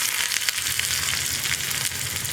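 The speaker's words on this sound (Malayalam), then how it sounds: "അതും കൂടി ഈ കടുകും ഉലുവയും പൊട്ടിക്കഴിയുമ്പോൾ വെളിച്ചെണ്ണയിലേക്ക് ചേർത്ത് കൊടുക്കണം." Sliced onions fry in hot coconut oil with mustard seeds and fenugreek, giving a steady, dense sizzle and crackle with a few faint stirring scrapes, close and continuous, with no talking.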